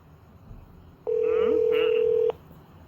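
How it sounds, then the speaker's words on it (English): Telephone ringing on a call: a single steady electronic ring tone lasting just over a second, loud and clean over faint room noise. "Oh, is it ringing now?"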